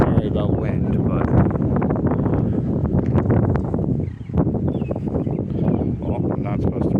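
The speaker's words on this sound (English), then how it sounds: "Sorry about wind" Wind buffets a microphone outdoors at Fort Monroe near Point Comfort, a constant loud rumbling roar that runs the whole time, with a person talking underneath it.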